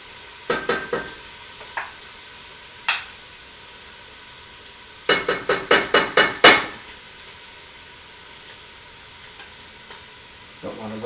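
Meat sauce cooks in a pot before tomato paste goes in: a spoon clatters and scrapes against the pot in short clusters of sharp knocks, with quiet gaps between and a faint sizzle underneath.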